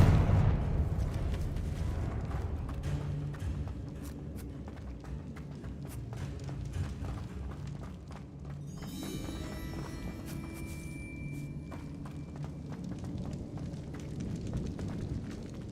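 Confringo fire spell explosions in the Hogwarts Legacy video game, a dense run of booming blasts and crackling bursts rolling continuously over game music, loud and close throughout.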